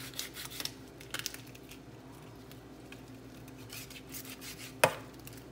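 A knife chops a goat head in a few sparse, dull knocks, with one sharper strike near the end, all faint against a quiet background.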